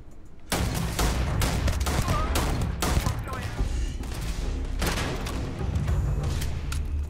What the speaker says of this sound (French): Putain, t'en as des grenades sur toi